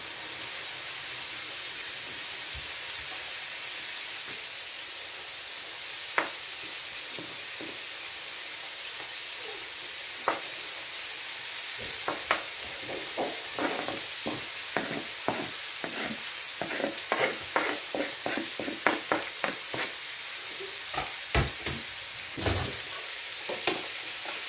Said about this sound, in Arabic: درت عليهم شويه الملح وشويه ديال الزيت، وغادي نتشحرهم